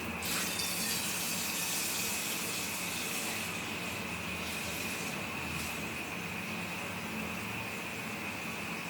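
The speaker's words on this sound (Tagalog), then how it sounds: "So, lalagyan natin ng tubig, magpapakulo na tayo ng tubig." Water running steadily from a tap into a cooking pot to be boiled for pancit habhab, a continuous hissing gush that stays even throughout with no voices.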